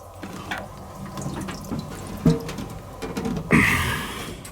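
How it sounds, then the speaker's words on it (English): Water leaking inside an engine and dripping down into the sump, a faint trickle punctuated by a few louder splashing drips, close by without talk. "That's definitely dripping down the sump."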